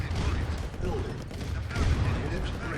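Tanks firing shots in Command and Conquer Red Alert Remastered, a dense run of rapid gunfire and booming blasts over steady battle noise, continuous and fairly loud throughout the short stretch.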